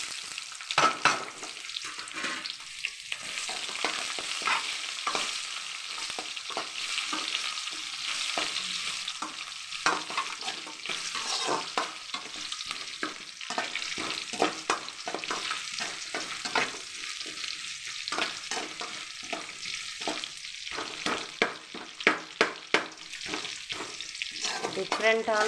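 Chopped onion and garlic frying in hot oil, with a soft continuous sizzle and frequent scraping stir strokes from a spoon against the pan, close by and fairly quiet.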